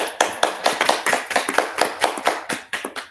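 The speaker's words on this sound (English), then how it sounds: "Let's clap for this meditation." A small group claps together after a meditation class, about a dozen sharp, fairly quick hand claps in an uneven rhythm, close and clear with no talk.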